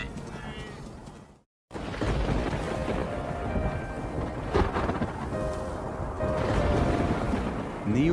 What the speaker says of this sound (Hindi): बारिश के मौसम में गरज भरे तूफान लगभग रोज ही आते रहते हैं